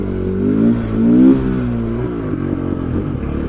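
A motorcycle engine revs hard while riding wheelies, its droning note climbing in pitch around the one-second mark and then settling into a steady, throaty run, loud and close with no talk.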